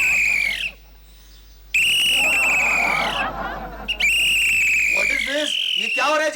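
A head watchman blows a whistle in long, loud, shrill blasts, two sustained bursts with a warbling tone, with a brief pause between them and a short stretch of talk around the middle.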